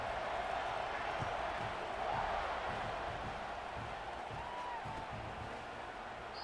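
Steady roar of an American football stadium crowd in a video game, a dense continuous wash of noise with faint cheering rising briefly as the teams line up for the kickoff.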